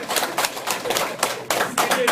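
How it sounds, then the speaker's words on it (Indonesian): An audience at a training session claps in quick, rhythmic bursts, with a few voices mixed in. "Tepuk tangan di bawah."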